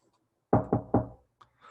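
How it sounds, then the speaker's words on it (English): Three firm knocks in quick succession on a tent door, close and distinct, followed by a fainter tap and a soft rustle in an otherwise quiet setting. "Somebody's tapping at the tent door."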